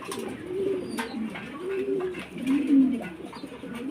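Lahori pigeons, fully jet black, cooing in a series of soft, rolling, wavering coos that rise and fall, fairly close, with faint background noise.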